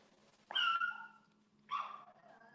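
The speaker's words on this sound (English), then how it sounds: "Michaela, can you please move the dog?" Two separate barks from a dog indoors, a sharp yelp followed by a second bark about a second later, both fairly close against a quiet background with a faint hum.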